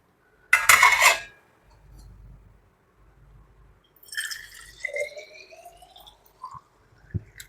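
A baby's milk bottle is rinsed under water with clinks against a sink and splashing drips, sparse and close, with some squeaky rubbing and a final sharp tap.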